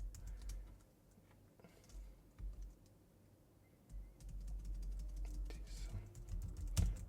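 Typing a command on a computer keyboard while setting up Laravel, with quiet, scattered key clicks over a low background hum.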